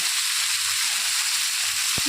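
Food frying in hot oil until reddish in a Bengali home kitchen, a steady close sizzle with a brief stir near the end.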